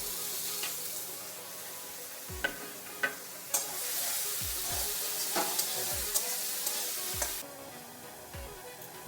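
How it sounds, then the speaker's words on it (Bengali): Paneer pieces fry in hot oil with nigella seeds for a Bengali curry, giving a steady close sizzle broken by sharp clinks and scrapes of a spatula stirring in the pan. "আর সমস্ত পনিরগুলো আমি একটু ভেজে নেব।"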